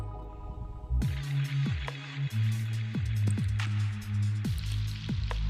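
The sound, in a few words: amaranth leaves frying in tempering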